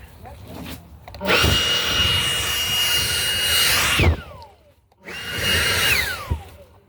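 A leaf blower clearing a yard roars up loudly twice, each burst a steady high whine that winds down when the throttle is released, with a short quiet gap between bursts.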